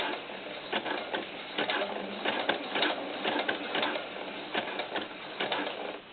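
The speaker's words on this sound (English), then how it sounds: "it's going to just sew up smooth for me" A sewing machine runs steadily while stitching a small doll camisole, with a close, continuous mechanical chatter and light rhythmic ticking throughout, no voices.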